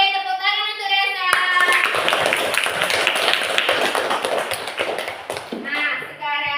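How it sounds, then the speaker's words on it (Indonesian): A classroom of students claps for a classmate during a geometry lesson on circles, a burst of many hands clapping that starts abruptly after the teacher's voice and fades out near the end, with talking before and after. "tepuk tangan untuk Resa"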